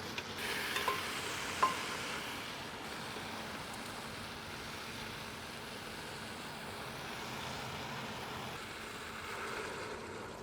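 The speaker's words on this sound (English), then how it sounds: "So I'm gonna let this just continue to work, sweat these veggies until those onions are translucent" Chopped vegetables and onions sweating in a pot give off a soft, steady sizzle and hiss throughout, fairly faint and even, with a couple of small clinks early on.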